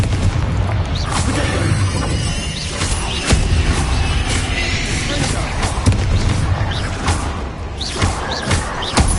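Booming spell blasts and heavy thuds from combat in the video game Hogwarts Legacy, including the Confringo fire spell, come one after another over a dense, loud bed of rumbling battle noise.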